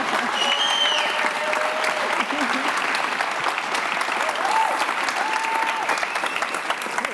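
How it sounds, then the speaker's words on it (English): Sustained audience applause for a tech panel taking the stage, steady clapping with a few faint whistles and cheers over it. "please put your hands together and give a big round of applause for our next group"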